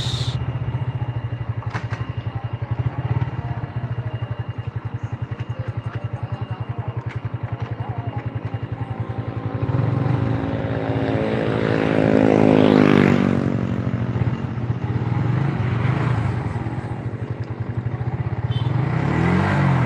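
A motorcycle engine is revved hard, a loud continuous buzzing drone that swells in pitch and volume midway before settling back, heard close up.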